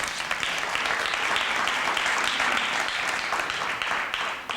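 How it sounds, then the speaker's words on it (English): Audience at a 50th birthday celebration gives a steady round of clapping, moderately loud and even, tapering slightly at the end. "You can give him a round of applause."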